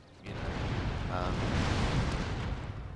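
Troops open fire during a battle in Shogun 2 Total War, a dense continuous roar of massed musket shots and booming battle noise, loud and sustained.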